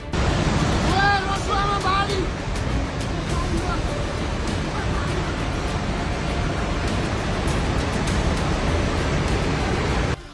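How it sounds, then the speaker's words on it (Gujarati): A roaring torrent of river floodwater in Nepal rushes in a loud, continuous broadband surge, with a few voices briefly audible near the start. "એ પ્રવાહની ગર્જના કેવી હતી એ પહેલા સાંભળો"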